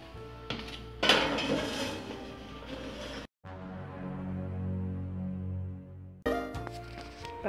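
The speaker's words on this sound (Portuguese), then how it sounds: "eu vou colocar a massa que vai ao forno pré-aquecido a 210 graus por 40 minutos. Vou levar ao forno." A metal baking pan of nega maluca cake batter clatters and scrapes as it is slid into an oven preheated to 210 degrees, with clinks and a dull knock, a brief pause, then more rattling.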